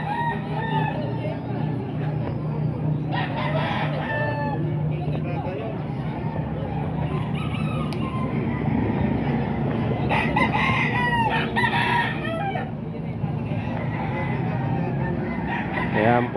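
Chickens cluck and a rooster crows repeatedly at a busy market stall in Baliwag, Philippines, where two hens are up for sale; the crowing stands out over steady crowd babble and nearby talking voices.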